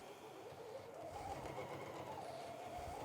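A sewing machine stitching a quarter-inch seam on a quilt-as-you-go toaster cover, a steady, soft whirring hum running continuously without pause.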